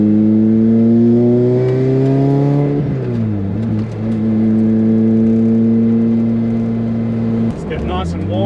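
A Lotus car with a supercharger upgrade accelerates hard on a track lap: a loud, close engine climbs steadily in pitch, drops with a gear change near three seconds, climbs again and shifts once more near the end.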